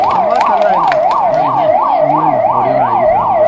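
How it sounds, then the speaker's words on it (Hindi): An ambulance siren wails in a steady, rapid up-and-down cycle, loud and close, on a street during a public rally in Champawat, Uttarakhand. "एक बार ये एम्बुलेंस को रास्ता दे दीजिए सब लोग।"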